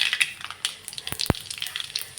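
Cumin seeds drop into hot oil with mustard seeds already added, giving a close, crackly sizzle of small pops and spits, with one sharp louder crack partway through.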